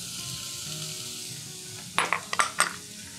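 Chopped carrots, shallots and fennel drop into a hot pot for bouillabaisse, setting off a burst of sizzling with a few sharp clatters and scrapes of stirring after a quieter simmer.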